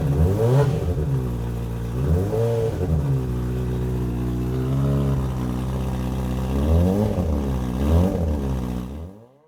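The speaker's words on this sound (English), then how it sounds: "Just using a little bit of B-roll here from the other day when I took this CBR 600 for an MOT" A Honda CBR 600 motorcycle engine revs up repeatedly in several rising and falling bursts, loud and close, with a steady idle between revs before fading out at the end.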